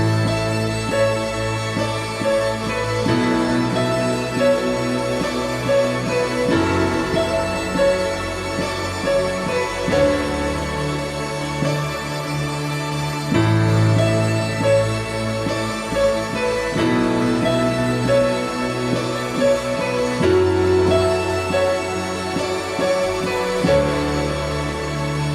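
A keyboard plays a melody over chords at a moderate, even level, with notes moving in regular rhythm and no talking.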